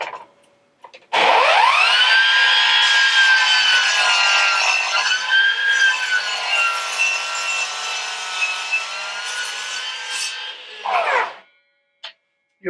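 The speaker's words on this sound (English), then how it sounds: "I'm going to pull it all the way out, let the blade come up to speed." A Ryobi sliding power saw spins up to a loud, steady motor whine while cutting wood for a base. It holds for about ten seconds, then cuts off abruptly as the brake stops the blade.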